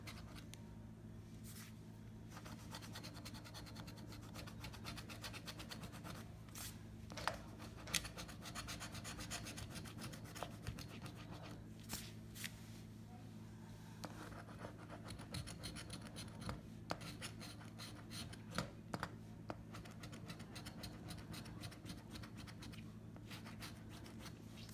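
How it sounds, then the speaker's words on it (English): A Gold Rush scratch-off lottery ticket is rubbed and scraped to remove its coating, a long continuous close rasping with occasional sharper scratches, quiet and without speech. "This ticket has so much scratching."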